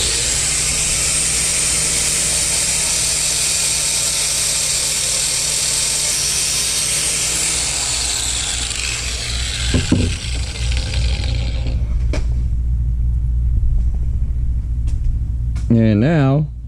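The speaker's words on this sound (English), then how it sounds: "Cut this head off." Grade 8 bolt having its head cut off with a power tool in a shop during a trailer landing gear box repair: a loud, steady high-pitched cutting whine for about eight seconds, then it winds down into rumble and clanks.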